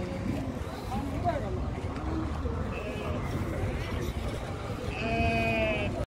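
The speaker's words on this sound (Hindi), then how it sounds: "लंबी पूंछ वाले दुम्बे हैं भाई।" Long-tailed dumba sheep bleat amid the crowded bustle of an Eid al-Adha livestock market in Saudi Arabia, with steady background chatter and a louder, drawn-out bleat near the end.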